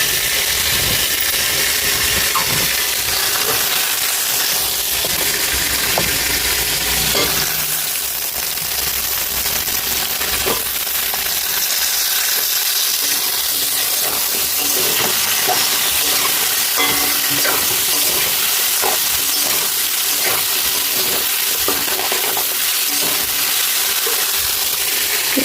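Eggplant pieces fry in a pan of reddened spice paste with garlic and green chili paste, giving a loud, steady sizzle and hiss with occasional stirring scrapes and pops throughout.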